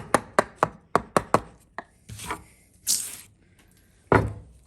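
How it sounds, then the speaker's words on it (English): A wood chisel bites into wood with a quick run of five or six sharp, close knocks, followed by scattered softer taps and scraping cuts. "To remove a little bit in the middle, angle your chisel up a little bit sharper"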